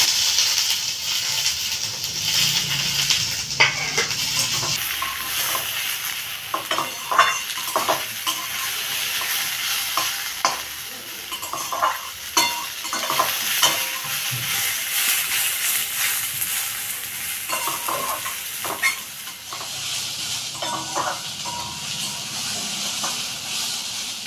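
Potatoes and onions fry together in a pan for a spicy fish curry, with a steady hissing sizzle throughout and repeated scraping stirs of a spatula, close and loud.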